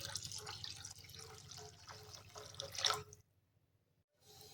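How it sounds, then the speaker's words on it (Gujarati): Hot water pouring into a pot of sev usal made with dried peas, a steady splashing, trickling stream close by for about three seconds, ending in a brief burst before near silence and a faint return of sound. "તો હવે આપણે એમાં ગરમ પાણી ઉમેરીશું।"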